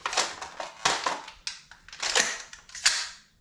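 Sharp metallic clacks and snaps come from handling an Aero Precision AR-10 rifle as its bolt drops closed, several close, crisp impacts in quick succession.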